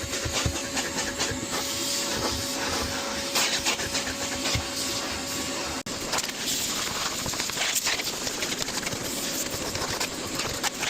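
A vacuum cleaner works over the interior of a seven-seat Tesla with a continuous close drone and hiss. The nozzle clatters and scrapes against surfaces, a brief dip comes midway, and no one speaks.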